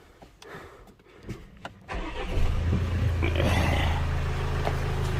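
A Land Rover Discovery Sport HSE 2.0 diesel cranks briefly and fires up, then settles into a steady, fairly loud idle close by, with light clicks beforehand.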